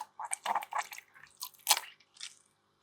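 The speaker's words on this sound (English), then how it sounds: "I've got this little turkey baster here that I can use for this, so just give it a proper good rinse around." Turkey baster squirting and sucking water while rinsing inside a nano reef aquarium, giving a run of close, wet squelching and dripping bursts, separated by brief pauses, with no voices.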